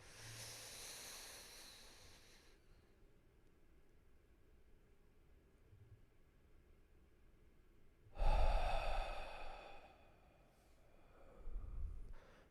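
A slow guided breathing exercise: a long audible inhale, a quiet held pause, then a loud exhale or breath release followed by another breath, all close and unaccompanied by talk.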